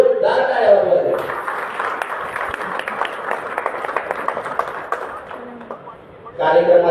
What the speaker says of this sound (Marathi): सर्वांनी एकदा विजय दनाने व त्यांच्या टीमसाठी जोरदार टाळ्या वाजवा